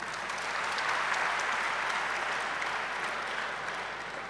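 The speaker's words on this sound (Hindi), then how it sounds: "फिर से तालियां बजा दीजिए।" Audience at a historic Indore mushaira applauding, a full dense burst of clapping from a large crowd that swells and holds for a few seconds, with no one speaking.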